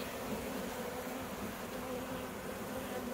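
Honeybees hum inside an open hive that holds two laying queens, a dense, steady buzz close up that stays even throughout with no voices.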